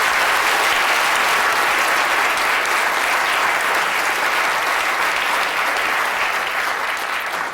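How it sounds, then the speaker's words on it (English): A studio audience at the Royal Institution Christmas Lecture gives a big round of applause, a dense, steady wash of clapping that stays loud and even for several seconds without a break. "Well, give Nathan a big round of applause."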